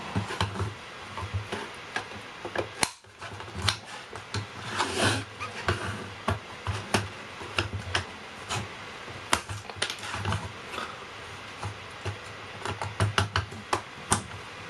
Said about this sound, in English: We'll use some pliers or cutters like this. We just cut the plastic